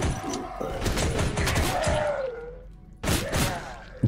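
Compact pistol fire in the shooter game Hyperviolent: a few sharp, loud shots with metallic mechanical clicks and thuds, then a brief lull and another burst near the end.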